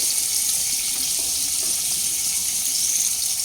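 Shrimp fry in hot mustard oil in a pan, giving off a steady, bright sizzling hiss at moderate loudness that continues without a break.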